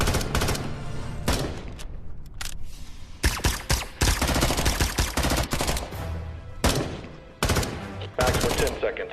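Soldiers fire on zombies in the open during a movie battle, loud bursts of automatic gunfire in rapid volleys separated by short pauses, close and sharp.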